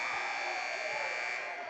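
A basketball arena buzzer sounds at the end of the first quarter of a high school girls' game, one sustained harsh electronic tone held throughout.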